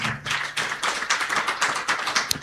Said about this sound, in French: les principales responsables de cet événement que je vous demande encore d'applaudir